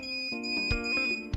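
A PET619 electronic dog training collar, sitting in water, emits a steady electronic beep tone for a little over a second, with a few soft knocks underneath and no voices.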